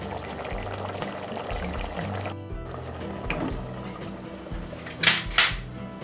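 Tomato sauce poured from a pan onto pasta: a short wet pour with clinking pot and utensil sounds, ending in two louder scraping splashes near the end, close and fairly quiet.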